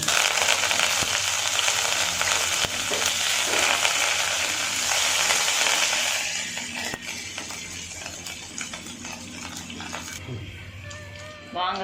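Mustard seeds and curry leaves hit hot oil for a Salem-style fish curry with a loud, crackling sizzle full of sharp pops, easing into a quieter fizz with scattered spits and clicks toward the end.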